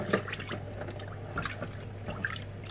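Traxxas Maxx RC car parts dunked into a container of water, soft close drips and small trickling splashes over a faint steady hum, quiet and intermittent without speech.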